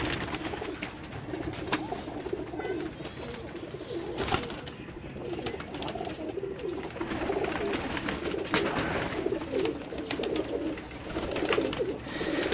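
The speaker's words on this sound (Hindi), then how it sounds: "ये जनाब इनके परवाजी कबूतर हैं" Cooing of Nara pigeons, a flock of flying pigeons kept on a rooftop, continuous and close with overlapping soft calls and a few sharper flutters throughout.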